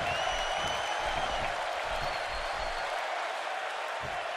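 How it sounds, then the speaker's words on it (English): A Tucson crowd at a wrestling match cheers and applauds in a large arena, giving off a loud, continuous roar with a steady, dense buzz throughout. "would you listen to the buzz of this Tucson crowd?"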